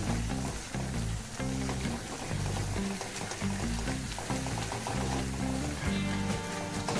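Masala paste for a spicy cauliflower, potato and pea curry fries in oil, a continuous dense sizzle with occasional stirring scrapes, steady and close throughout.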